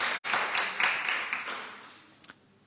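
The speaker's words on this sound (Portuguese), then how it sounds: "Uma salva de palmas para o Raul." A brief burst of clapping from a church congregation honoring Raul, loud at first and fading out within a couple of seconds, with a soft tap near the end.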